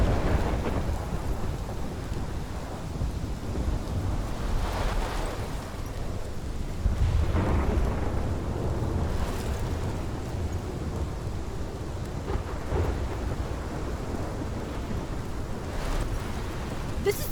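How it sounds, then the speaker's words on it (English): Thunderstorm with rain in the video game Life is Strange, a steady wash of rainfall with low rolling thunder rumbles swelling and fading over the whole stretch, no talk. "This is my storm."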